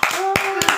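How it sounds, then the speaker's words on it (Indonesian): A few sharp hand claps from an audience at an evening talk, loud and close, spaced irregularly over less than a second, with a voice carrying beneath them. "Tepuk tangannya"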